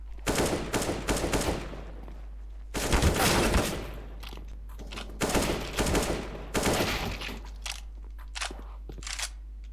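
Gunfire in a shooter video game, heard as rapid bursts of automatic shots in several volleys separated by short pauses, loud and close.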